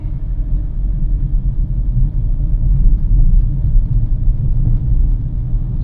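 A car driving slowly on a road in third gear at about 35 to 38 km/h: a steady, loud low rumble of engine and road noise inside the cabin, even throughout, with no talking.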